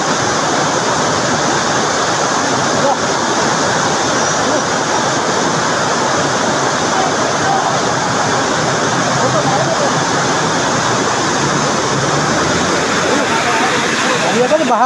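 Heavy rain pours down in a dense, loud, unbroken roar that fills the whole stretch, close and steady with no pauses.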